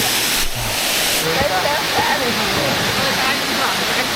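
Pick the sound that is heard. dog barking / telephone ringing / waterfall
waterfall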